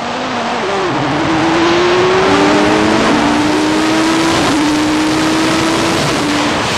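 A Pescarolo C60 race car and a Mirage 2000 jet sprinting from a standing start over a short distance, a loud, close, sustained engine roar with a rising whine that climbs in pitch across several seconds.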